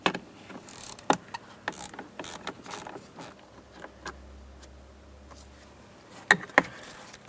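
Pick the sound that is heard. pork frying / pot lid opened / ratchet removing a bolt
ratchet removing a bolt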